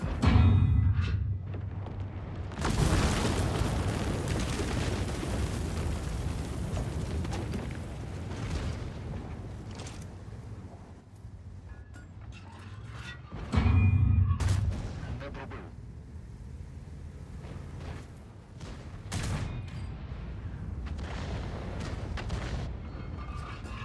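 Repeated heavy tank cannon blasts in World of Tanks boom out at intervals, each a loud, broad burst followed by rumbling engine noise and clanking in between.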